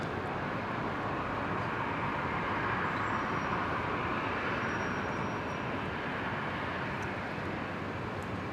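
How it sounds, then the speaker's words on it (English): Boeing Dreamliner starting its takeoff roll on runway 19 right at Brisbane airport, a steady broad jet engine roar held at an even level throughout with no voices. "it's just begun its takeoff rollover on 19 on right. The Dreamliner heading up to Osaka"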